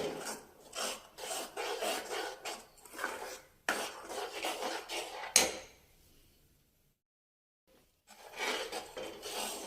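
Ingredients for palak paneer are roasted in a pan, stirred with rhythmic, rasping scrapes of a spatula against the metal in close bursts, then a quiet pause before the scraping resumes.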